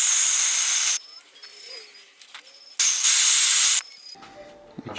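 Oil set alight and left to burn gives two loud, steady bursts of hiss separated by a quieter stretch with faint clicks and rustling, close by.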